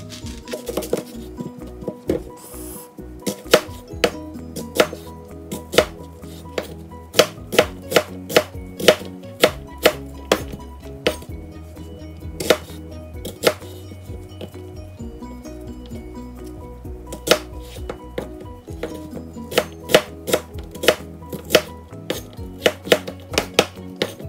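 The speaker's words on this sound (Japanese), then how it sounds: "玉ねぎも同じように切ります" A knife chops onions on a cutting board for clam chowder, a quick run of sharp, close, rhythmic knocks that pause now and then and restart, with no one speaking.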